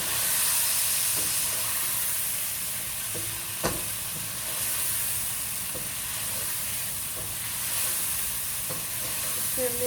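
Chicken curry with garam masala frying in a pan makes a soft, continuous sizzle and hiss, with occasional light spatula taps and one sharper knock partway through, fairly quiet and steady throughout.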